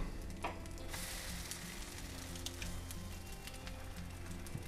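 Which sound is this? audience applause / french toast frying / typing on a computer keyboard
french toast frying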